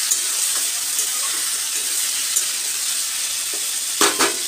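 Food frying in a pan with a steady, close sizzle throughout, a few faint clinks and stirring scrapes, and two louder knocks near the end.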